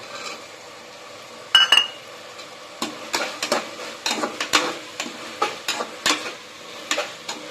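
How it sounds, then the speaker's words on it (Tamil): Green peas added to softened tomatoes sauté in a pan for a Pannai keerai biriyani, with a low sizzle under repeated scraping strokes of a spoon and an early louder clatter, close and clear with no talk. "இப்போ தக்காளி வதங்கிடுச்சு. இப்போ பட்டாணி சேர்த்துக்கிறேன்."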